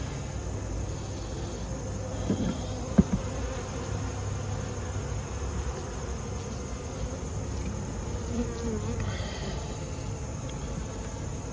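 Queenless honeybee hive giving off a steady, low, even buzz, fairly quiet and continuous with no voices.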